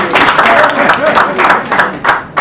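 An audience claps in a steady rhythmic beat, loud and close, with a voice speaking over part of the clapping.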